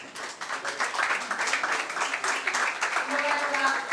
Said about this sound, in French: Applaudissez Loba Loba.